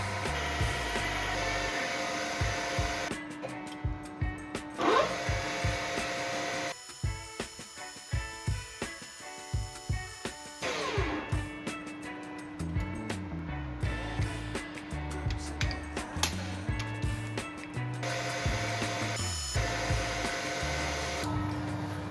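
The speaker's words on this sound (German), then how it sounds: "Und dann bohre ich vielleicht noch hier so 2 Löcher rein." A drill whines steadily while boring two holes into a custom dipstick for a Yamaha SR500 motorcycle, with clicks and shop clatter between passes and a sustained motor tone in the middle.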